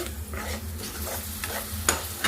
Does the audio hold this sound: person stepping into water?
no